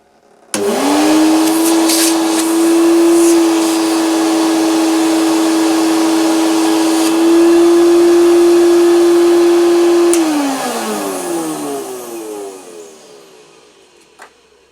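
A new-in-box Hoover S1015 Portapower vacuum cleaner motor starts up and runs with a steady, loud whine for about ten seconds, then winds down gradually to silence, with no voices.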